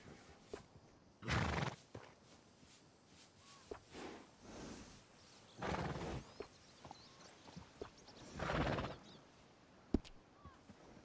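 A horse in a video game whinnies and snorts in several loud bursts, with soft hoof clops between them, all fairly quiet overall.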